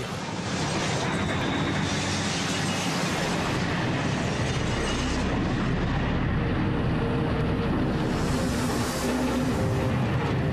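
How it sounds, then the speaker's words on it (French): Airliner belly-landing on the tarmac with its landing gear stuck and full fuel tanks, a loud continuous roaring, scraping rush sustained for over ten seconds with no voices. "Il va atterrir sur le ventre."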